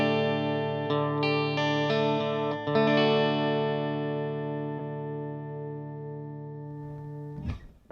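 A Fender American Original 60s Stratocaster on its bridge pickup, played through a Mesa Boogie amp's clean channel with flat EQ and a touch of reverb: several picked notes and chords in quick succession, then a long ringing sustain that slowly fades, ending with a brief scrape.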